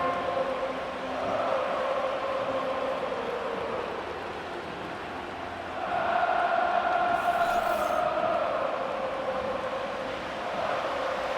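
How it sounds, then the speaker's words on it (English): Stadium crowd noise in the Madden 25 football video game during a Steelers vs Chiefs wild card game: a broad, distant roar that swells, fades and swells again, with no talking. "The crowd making their presence felt."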